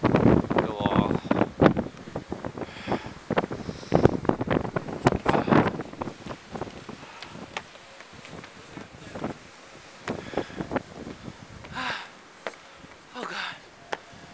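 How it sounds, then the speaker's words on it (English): Strong wind buffets the microphone on the Great Wall of China at Badaling, roaring in loud irregular gusts throughout, with voices talking over the first several seconds. "so windy, and we just get blown off the wall"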